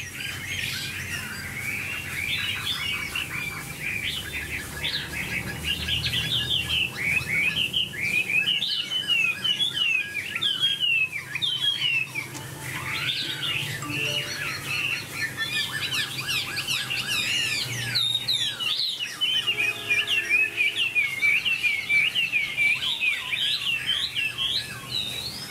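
A hwamei, or melodious laughingthrush, sings a long, varied run of bright whistled phrases and chirps, close and clear, with insects faintly in the background and no talk.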